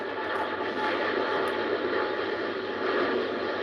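An American Airlines airliner bound for New York climbs out over Heathrow, a steady, broad engine roar that stays even and fairly loud throughout with no speech.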